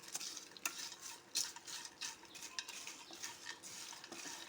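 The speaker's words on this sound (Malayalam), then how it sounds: "നമുക്കിത് പപ്പടത്തിൻ്റെ എല്ലാ വശത്തോട്ടും ഈ ഉള്ളിയും മുളകും എല്ലാം കൂടെ ഒന്ന് മിക്സ് ആക്കിയെടുക്കണം" Fried pappadam is stirred with onion and chili in a pan for Kerala-style pappadam mezhukkupuratti, giving soft, repeated scraping strokes and light sizzle, close and quiet, with no talking.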